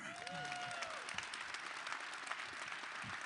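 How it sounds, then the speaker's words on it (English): Crowd applause at a 2024 NFL Draft announcement event in Detroit, a steady wash of clapping from many people, with a brief rising tonal sound near the start and faint crowd noise underneath. "keep clapping if you're excited about the draft"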